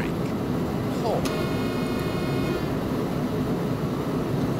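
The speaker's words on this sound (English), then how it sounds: "Engine brake. Horn." A locomotive horn sounds in Train Simulator 2016 during a Koblenz passenger run. It gives one sustained tonal blast lasting about a second and a half over a constant rumble of the cab and running gear.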